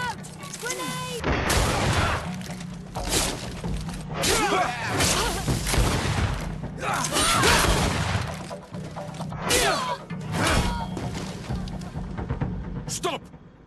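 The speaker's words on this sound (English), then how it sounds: "Watch out! Grenade!" Grenade blasts and combat in the video game GreedFall: repeated booming bursts and clashing hits come one after another at close range, with shouting voices between them.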